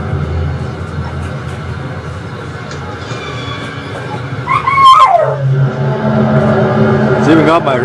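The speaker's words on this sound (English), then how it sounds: "It's even got my dogs barking." Several dogs bark and whimper in short bursts in the background, rising toward the end over a steady strange droning sound, with a person talking nearby.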